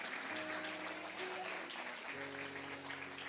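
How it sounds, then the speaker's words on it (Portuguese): Church congregation applauding during a Methodist sermon, steady dense clapping that fills the whole short stretch, fairly quiet and distant, with sustained tones from a keyboard or organ underneath. "Pode aplaudir mesmo."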